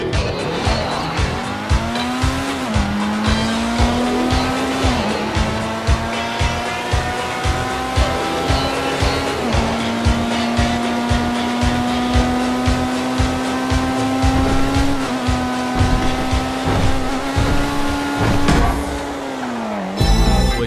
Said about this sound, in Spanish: podemos ver las prestaciones del nuevo Pfister 811 en un test de velocidad contra el T20, estando ambos coches modificados al máximo